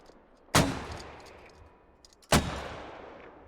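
Two mortar shots fire in the video game Squad, each a sharp loud boom followed by a long fading echo, spaced about two seconds apart.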